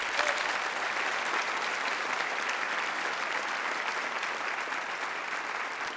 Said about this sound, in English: And please give her a round of applause, too.